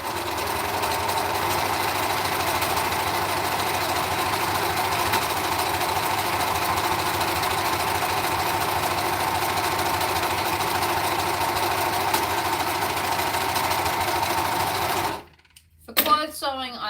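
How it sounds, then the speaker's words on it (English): An overlocker sewing machine stitches fabric for charity sewing, a steady, close mechanical whir that runs continuously for about fifteen seconds before stopping abruptly, followed by brief talk. "just overlocking will be fine."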